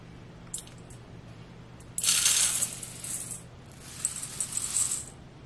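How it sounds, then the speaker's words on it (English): Dry rolled oats poured into a big mixing bowl for homemade granola, a dry rattling hiss in two bursts, the second softer, with no talking. "I just added 2 cups of oats into the bowl."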